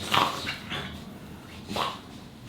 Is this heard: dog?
yes